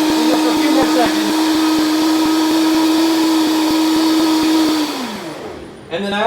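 A blender runs at high speed blending rhubarb agua fresca, a loud steady whirring drone that winds down in pitch near the end before stopping, followed by a brief clatter.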